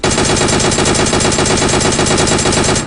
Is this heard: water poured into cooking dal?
no